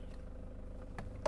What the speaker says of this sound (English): This is car 1 entering runway 1836 for inspection.